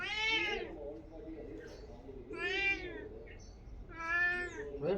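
A cat gives three drawn-out meows, each rising and falling, evenly spaced and close, with a soft low voice murmuring underneath.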